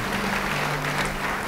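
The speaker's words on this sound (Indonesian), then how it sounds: "Yang percaya beri tepuk tangan sekali lagi." Congregation clapping together in a church service, a short steady wash of applause with a low hum beneath it.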